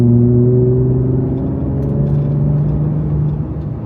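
A Toyota Tundra pickup with an AWE Tuning OFG catback exhaust cruises at about 40 mph, giving a loud, steady low engine rumble with a smooth hum that eases slightly near the end.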